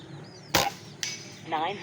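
An air rifle, an Indonesian-made Mini Predator with upgrades, firing at a plate target at close range: a sharp crack, then a second sharper report about half a second later, then a faint clatter.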